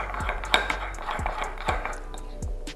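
Cajun seasoning being mixed into butter in a bowl, a utensil clinking and tapping against the bowl several times in an irregular rhythm, close and fairly quiet.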